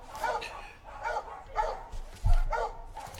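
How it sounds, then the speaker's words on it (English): Several dogs bark in repeated bursts at a moderate distance, with a louder thump near the middle, while a voice murmurs faintly underneath. "God, the dogs are so loud today."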